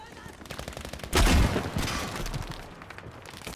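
Bazooka shots hitting a tank in the video game Battlefield V, a heavy blast erupting about a second in, followed by rumbling gunfire and explosions continuing at close range.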